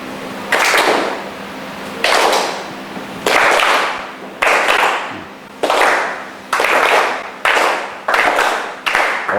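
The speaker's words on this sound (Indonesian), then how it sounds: "kalau saya bilang tangan kanan, kalian tepuk 1, tangan kiri berarti kalian tepuk 2" Schoolchildren in a classroom clapping in unison during a right-hand, left-hand clapping game, sharp group claps in a repeating pattern of single and double bursts, loud and close.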